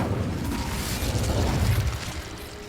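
A fire spell cast in the video game Hogwarts Legacy, heard as a continuous rumbling, bursting whoosh with low booming energy that holds steady for a few seconds with no voices.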